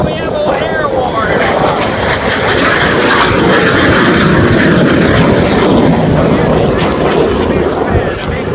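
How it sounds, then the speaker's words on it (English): A MiG-21 jet fighter on its takeoff roll at an airshow gives a loud, sustained roar that holds steady throughout, with a crowd or announcer faintly present underneath. "a MiG-21, the most elaborate of the third generation fighters, is on the roll"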